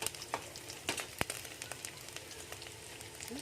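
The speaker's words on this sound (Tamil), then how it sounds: "மறுபடியும் கொஞ்சம் எண்ணெய் ஊற்றி இந்த வெஜிடபிள்ஸ் எல்லாம் ஃப்ரை பண்ணிக்கலாம்" Vegetables sizzle in hot oil in a wok while egg schezwan fried rice is made, Mumbai street food style; a faint, even crackle with scattered sharp pops and no talking.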